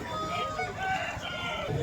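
A young rooster weighing over three kilos calls in a busy Sunday poultry market in Vijayawada, its voice mixed into dense crowd chatter and background noise.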